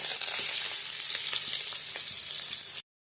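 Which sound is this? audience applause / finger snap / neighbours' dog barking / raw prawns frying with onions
raw prawns frying with onions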